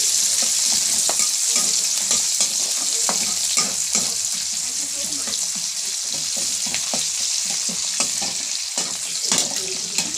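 Onions fry in a home-kitchen pan as they are stirred until brown, a continuous close sizzle broken by repeated sharp scrapes and taps of the spoon.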